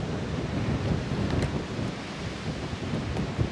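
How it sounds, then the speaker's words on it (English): Steady wind roars and buffets across the open summit of Standing Indian Mountain on the Appalachian Trail, a continuous broadband rush with gusty swells and microphone buffeting, no voices. "Definitely a little windy."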